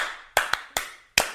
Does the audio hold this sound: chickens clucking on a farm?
no